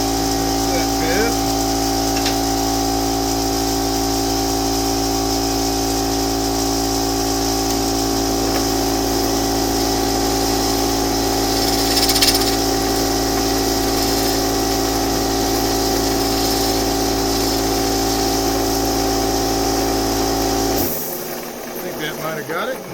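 A wood lathe turning a wooden piece runs with a loud, steady motor hum and whine, continuous for a long stretch before it abruptly stops, with a voice speaking over it.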